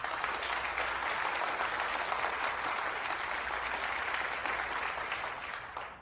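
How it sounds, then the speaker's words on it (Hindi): An audience at a debate competition applauds a team in sustained, dense clapping that stays steady for about six seconds before easing slightly at the end. "इनके लिए भी तालियां बजाइए।"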